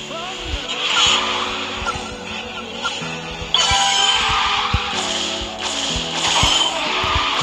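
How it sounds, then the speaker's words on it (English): Race car drifting with skidding tires in the mobile racing game Garena Speed Drifters, on a smelting-workshop track. A steady engine roar and tire screech run continuously under constant background music, with louder surges partway through. "Let's try the new speed pass car."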